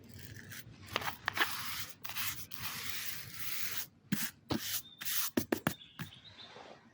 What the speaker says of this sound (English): Spray a little bit of water to make the solution spread further